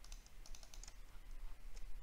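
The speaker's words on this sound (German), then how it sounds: "Dazu klicke ich mit der gedrückten Steuerungstaste auf" Mouse clicks made while holding the Ctrl key at a computer, a few sharp, faint taps close by in a quiet room, with no talk.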